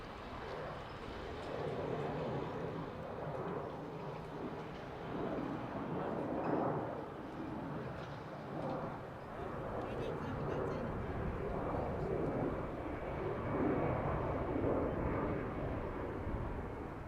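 A Boeing 777 airliner at Dublin Airport gives a steady, broad jet roar that holds for the whole stretch, loud and continuous, with some voices mixed in underneath.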